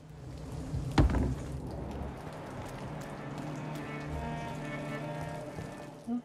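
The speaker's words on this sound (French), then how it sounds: "Bah, il pleut." Steady rain falls through the gothic streets of the video game Vampyr, a continuous soft wash under distant ambience, with one brief louder thump near the start.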